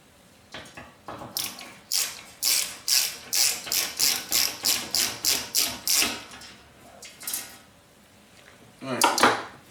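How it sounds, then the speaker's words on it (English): Small silver screws are backed out of a Rangemaster dual fuel gas hob with a ratcheting screwdriver, giving a steady run of sharp metallic clicks, then a brief pause and a final short burst of ratcheting. "So you also have to remove all these little silver screws as well."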